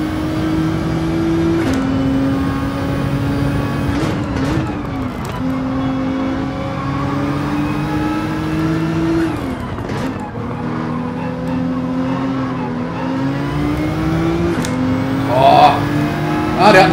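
Porsche race car engines in Gran Turismo 7 at Road Atlanta: loud, steady high-revving engine drone with repeated gear shifts and rising pitch sweeps as cars pass, while someone talks over the racing throughout.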